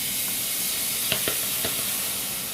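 Minced garlic sizzles in a teaspoon of olive oil in a pan, a steady close hiss with a few soft taps of a utensil partway through.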